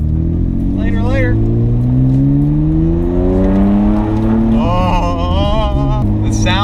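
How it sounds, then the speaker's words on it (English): A Nissan Skyline GT-R's twin-turbo inline-six RB engine revs up close and loud, its pitch climbing steadily through a long pull before dropping and rising again, with some faint voice-like sounds underneath. "Oh, the sound of an RB engine will never get old. Inline 6 twin turbo."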